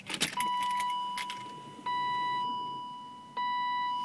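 A supercharged 1998 BMW E36 M3 fails to start: a few rapid clicks and faint cranking, followed by steady electronic warning chimes that repeat twice at regular intervals while the engine stays silent.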